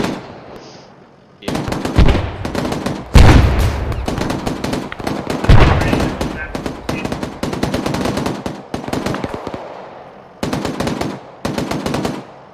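Heavy automatic gunfire from an Arma 3 military operation, with long loud bursts of rapid shots and a few sharp, booming single reports between short pauses.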